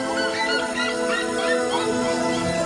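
A seriema calls in the Pantanal of Mato Grosso, with a continuous run of high, yelping cries layered over a constant background.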